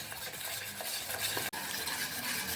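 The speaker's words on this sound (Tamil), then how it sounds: "கட்டி இல்லாமல் நல்லா கலந்துக்கலாம்." Gram flour dhokla batter stirred in a bowl with a spoon, a continuous close wet swishing and scraping that runs almost without pause.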